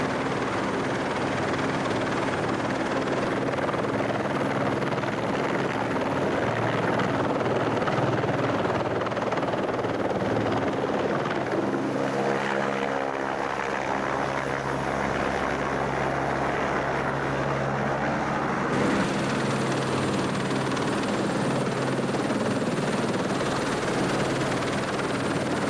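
A helicopter flies rotations from the Marion Dufresne ship, its steady rotor and engine roar continuous and loud for the whole stretch, with no voices.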